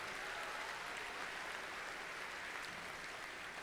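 Dense, steady applause from a large crowd at a FIRST robotics state championship in Michigan, a continuous hiss of many hands clapping with no talk over it.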